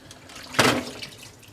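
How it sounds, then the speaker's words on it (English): Chicken cutlets rinsed with vinegar and water in a pan, a single short splash and pour of liquid rising out of quiet background, then fading away. "now I'm just rinsing my cutlets off"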